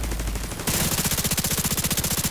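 Rapid automatic gunfire from The Division 2 video game, a steady stream of loud, evenly spaced shots that kicks in after a brief lower rumble and keeps hammering without a break.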